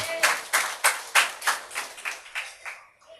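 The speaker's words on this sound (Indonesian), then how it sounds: "Jangan tepuk tangan dulu, cerita belum selesai." Church congregation clapping in slow unison, about ten distinct loud claps in a steady rhythm that fade out at the end.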